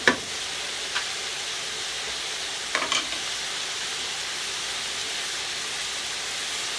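Seasoned Brussels sprouts are stirred in a hot pan, a low continuous sizzle with a couple of brief scraping knocks from a spoon, fairly quiet and alone.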